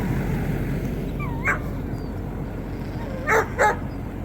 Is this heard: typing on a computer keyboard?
no